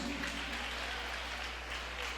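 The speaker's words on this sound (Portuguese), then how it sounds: "Alguém quer aplaudir a Jesus?" Worshippers applaud during a Bible study service, a steady, moderately soft patter of many hands over a constant low hum.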